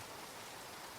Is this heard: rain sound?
yes